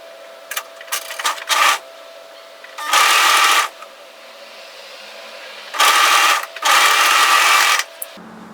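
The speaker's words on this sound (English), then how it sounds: "we're going to overlock together the neck edge" An overlocker stitches the neck edge of a V-neck Henley sweater, starting with a few short stuttering bursts, then longer loud whirring runs separated by quiet pauses, close by.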